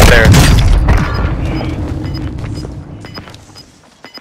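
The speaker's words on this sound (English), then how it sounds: "Mortar strike inbound now." Heavy booms of a mortar strike in a video game roll through at close range, a dense rumbling barrage at the start that fades and thins out over a few seconds.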